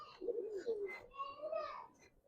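Caged Giribaz high-flyer pigeons coo in low, rolling phrases, close and fairly clear, with a few higher chirps and light background voices.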